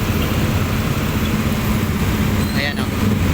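Large, tall vehicles pass along a deeply flooded road, giving a steady, loud roadway rumble with sloshing water noise and a brief swishing pass near the end, while people talk throughout.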